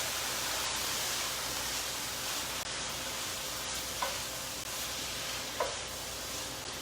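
Zucchini pie filling softening in a pan gives a quiet, steady hiss, with a couple of faint spoon taps against the pan as it is stirred.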